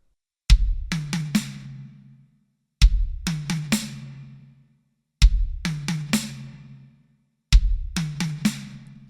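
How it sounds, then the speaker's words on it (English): A triplet drum fill played four times in a row, each a sharp bass drum hit followed by quick high tom strokes and a snare landing, clean and close with short pauses between repeats and no talking. "And we're playing those 2 on the high tom, and then we're going to land on the let of triplet on the snare with the right hand."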